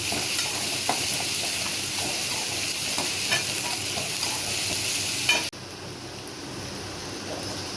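Garlic and onions frying in a pan for a potato curry, a steady close sizzle with light stirring clicks, which drops abruptly to a quieter hiss near the end.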